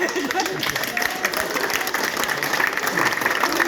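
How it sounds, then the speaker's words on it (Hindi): An audience of teachers at a theatre-in-education training session claps together, a thick, continuous wash of applause that stays loud throughout. "ताली।"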